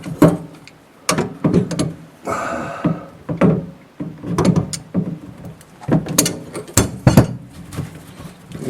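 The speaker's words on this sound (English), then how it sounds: "And I'm going to loosen this nut." A wrench loosens the nut on a kitchen sink basket strainer, producing a series of sharp metallic clanks, knocks and scraping turns in irregular bursts, close by with quiet gaps between.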